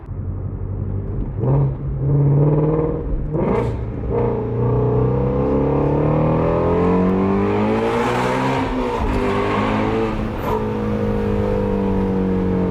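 A Ford Mustang GT350 with an aftermarket X-pipe exhaust revs hard and rumbles continuously, pitch climbing and falling as it accelerates and shifts on back roads, loud and close throughout.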